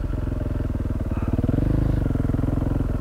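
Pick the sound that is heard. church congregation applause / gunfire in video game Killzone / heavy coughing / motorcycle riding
motorcycle riding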